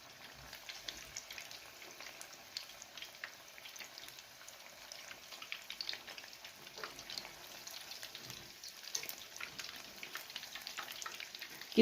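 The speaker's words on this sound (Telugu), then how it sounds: "గోల్డెన్ బ్రౌన్ అయ్యే వరకు వేయించాలి." Cheese balls frying in hot oil, a soft, steady sizzle with faint crackles and occasional stirring, moderately quiet and continuous with no talking.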